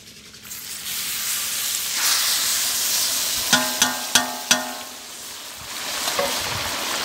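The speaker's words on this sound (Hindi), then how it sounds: "जब घी बिल्कुल खूब गर्म हो जाए फिर आपने इसमें छुहारे का खोया डालना है" Dried date khoya dropped into very hot desi ghee, bursting into a loud, continuous sizzle and hiss, with a few sharp metallic clinks of a utensil against the pan partway through.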